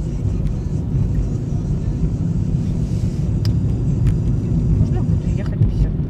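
A car on a city driving lesson gives a steady, loud low rumble of engine and road noise from inside the cabin, continuous throughout with no clear rise in pitch.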